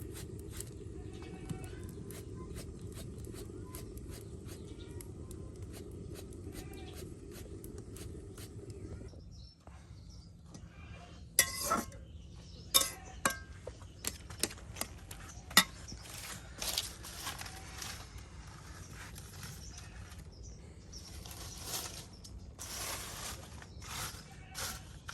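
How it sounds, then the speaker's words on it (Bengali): A grandmother cuts bottle gourd into small pieces during village cooking: irregular sharp knife taps and clicks start after a steady low hum, some close together and some spaced out, with faint background noise throughout. "এই যে এখন দাদি কিন্তু আপনার এই যে বসে গেল লাউ কুচি করার জন্য"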